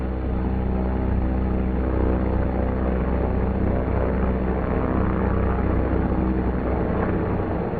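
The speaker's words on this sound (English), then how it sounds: "push the feathering button and hold until the prop windmills to between 600 and 800 RPM" A single-engine light aircraft propeller windmills at low RPM after feathering, heard from inside the cockpit. A steady, loud, droning hum with a broad rush runs continuously and alone throughout.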